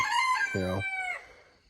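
A Brown Pit bantam rooster crows loudly nearby, one long drawn-out call with a brief clucking break partway through.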